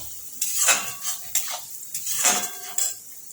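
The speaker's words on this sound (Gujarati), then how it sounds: "થોડી હળદર એડ કરીશું અને મિક્સ કરી લઈશું આપણે" A spoon scrapes and clinks against a pan while turmeric is stirred into frying onions and green chillies, with a light sizzle under several bursts of stirring.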